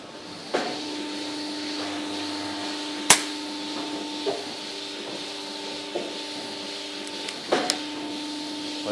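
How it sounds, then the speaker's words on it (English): A milking machine runs in a barn with a steady mechanical hum and tonal drone, broken by a few sharp knocks and clicks, moderately loud and with no voices. "Heck of a lot of noise here from the milking machine"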